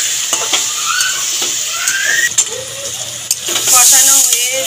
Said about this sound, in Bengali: দিয়ে ভালো করে নাড়িয়ে কষাতে থাকবো